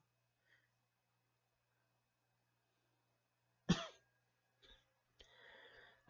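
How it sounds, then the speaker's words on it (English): A person coughs indoors in a dusty room: one sharp, close cough stands out from near silence, then a short throat-clearing sound and a longer rasping follow-up. "The coughing persists"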